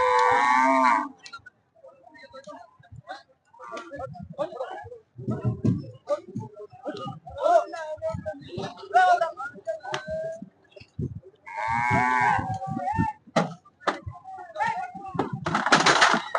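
Several loud, drawn-out moos from a large cow at a cattle market, close by, with people talking and shouting between them.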